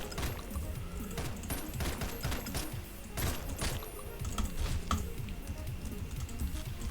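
Rapid bursts of gunfire crackle through a Hotline Miami game on hard mode, dense overlapping shots forming a steady loud barrage with sharp transient spikes throughout.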